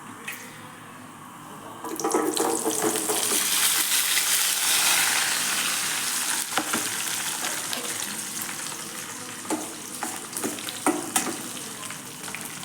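Shallots, garlic, green chillies and curry leaves dropped into hot oil already crackling with fennel seeds for a tangy dried-vegetable tamarind curry, a loud close burst of sizzling that swells after about two seconds and continues with scattered stirring clatter.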